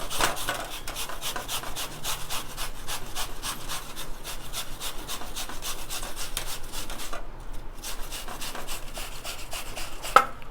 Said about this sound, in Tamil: நான் ஆப்பிள் துருவுறேன்.